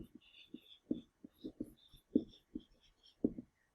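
Pen or marker strokes while writing out an algebra equation for completing the square, a series of short scratchy bursts in an uneven rhythm, close and quiet, with soft speech-like sounds around them.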